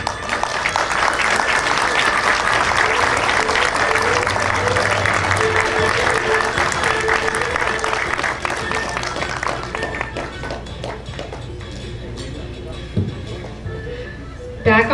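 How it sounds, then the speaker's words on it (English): Sustained applause from an audience at a Chinese New Year show, loud and dense at first, then thinning to scattered claps toward the end, with a presenter's voice over it. "Ladies and gentlemen, a big round of applause."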